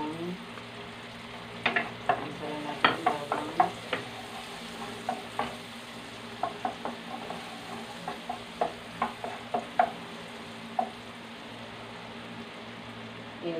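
Garlic sautéing in a pan while macaroni sauce is started, a continuous steady sizzle broken by frequent sharp scrapes and taps of a spatula, close and fairly loud, with no talking.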